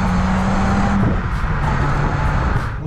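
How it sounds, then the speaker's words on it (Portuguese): A Citroën Saxo Cup 1.6 16v runs on the road. Its engine and exhaust make a steady drone with a tonal hum that shifts pitch partway through, loud and continuous with no voices. "Neste ouve-se um bocadinho de escape."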